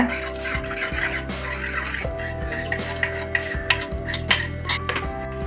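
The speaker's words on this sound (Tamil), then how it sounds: "ஒரு கரண்டியை மற்ற வச்சு மசிச்சிக்கங்க" A metal ladle mashes cooked dal, scraping and pressing against the inside of a pressure cooker in repeated strokes, with clinks and a faint steady hum in the background.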